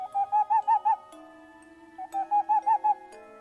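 A bird call repeats in two bursts of five quick, clear hooting notes, separated by a soft, sustained tone, with nothing else around it.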